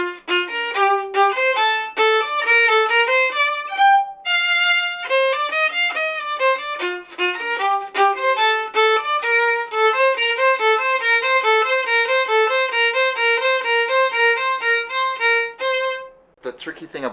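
Solo violin plays the Gavotte from Mignon from measure 35 onward, clear detached melodic notes with quick string crossings and a brief pause near the end, close and unaccompanied.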